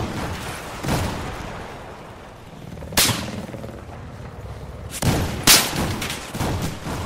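Battlefield 4 gunfire in a video game: scattered loud shots and cracks over a constant battlefield din, with sharp reports around every couple of seconds.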